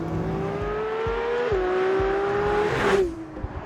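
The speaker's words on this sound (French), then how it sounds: "écoutez-moi ce son. Le dernier moteur atmosphérique sur une Porsche." A Porsche GT3's naturally aspirated engine revs in a strong, tonal wail whose pitch climbs, drops briefly at two shift points, then rises again, heard close and without any voices.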